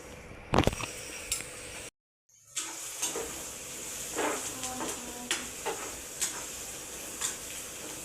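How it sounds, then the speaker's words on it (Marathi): Turmeric and asafoetida dropped into hot oil for a guar (cluster bean) stir-fry, giving a soft, steady sizzle with a few scattered clinks of a utensil and a brief silent gap early on. "आता टाक त्याच्यामध्ये हळद टाक, हिंग टाक. आता मी हळद टाकते."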